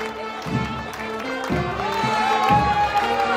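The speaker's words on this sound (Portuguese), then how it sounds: "Vamos aplaudir, eu quero ver você aplaudindo!" Crowd applauding and cheering at Santa's arrival for the Christmas lights event in Flores, Pernambuco, a sustained outdoor roar of clapping and voices that swells slightly toward the end, with music or a rhythmic beat underneath.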